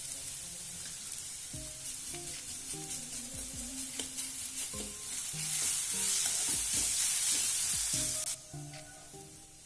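Curry leaves and ginger garlic paste sizzling in a frying pan for an egg onion fry, a loud crackling sizzle that swells midway under scattered stirring scrapes and clinks.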